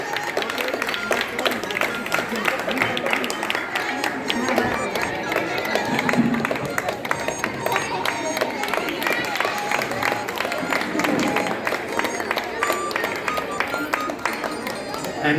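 Audience clapping at a prize distribution ceremony, a continuous dense patter of many hands applauding at steady loudness, with crowd murmur and voices mixed in.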